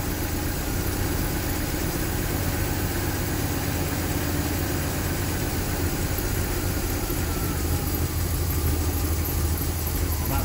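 A 1978 MGB engine idles steadily and close while being tuned, holding a constant, rough mid-low drone without clear changes in pace.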